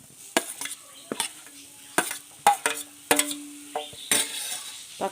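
Tomatoes fry with roasted spice powders in a pan for a coconut-milk sardine roast, a soft sizzle broken by several sharp scrapes and clinks of a spoon stirring, up close with no voices.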